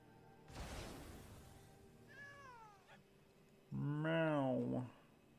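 A cat meows three times with gaps between them. The first cry is short and breathy, the second is a thin wavering mew, and the third is a loud drawn-out yowl close by.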